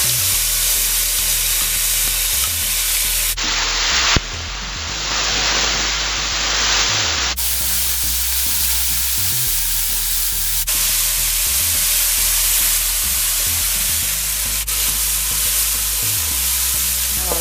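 Masala sizzling and frying in hot oil with already parched ajwain, cumin and mustard seeds, a steady loud crackling hiss running throughout with brief stirring changes, no voices.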